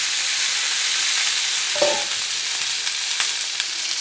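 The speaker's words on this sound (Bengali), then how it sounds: "স্টিলের কড়াই খুব গরম হয়ে গেছে ফোড়ন ভাজা হয়ে গেছে এবার এই কেটে রাখা টমেটোগুলো দিয়ে দিলাম" Chopped tomatoes land in hot oil with five-spice tempering in a very hot steel wok, giving a steady close sizzle with a brief sharper burst as they go in and a few light scrapes.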